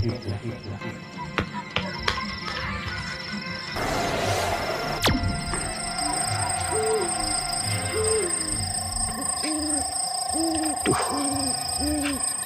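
A bird calls over a busy outdoor background, with several short, hooting tones repeating in pairs toward the end of the scene, moderately distant.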